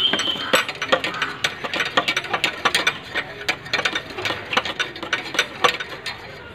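Spanner working the cone nut on a bicycle wheel hub, giving a steady run of close metallic clicks and ratcheting ticks with a faint whine under them.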